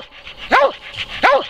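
A hunting dog out after flying squirrels in West Virginia woods gives two sharp barks about 0.7 seconds apart, fairly close, with quieter yips between them.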